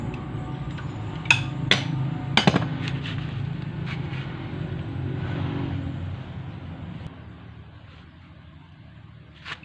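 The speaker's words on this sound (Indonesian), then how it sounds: "kita gedor dengan secara perlahan" Gentle, scattered metal knocks as a Dina 130 HT motorcycle transmission casing is tapped loose during disassembly, a few sharp raps over a low rumbling background that quiets toward the end.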